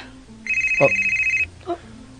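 A telephone rings with an incoming call, a single bright electronic ring lasting about a second followed by a shorter chirp, close and clear, with someone speaking briefly.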